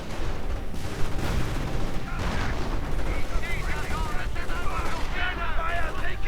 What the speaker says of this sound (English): Sniper fire tearing through those Panzergrenadiers.